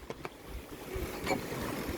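Water rushes and swishes past a sailboat's hull on an open-sea passage, a soft steady wash with faint wind, heard close up and fairly quiet.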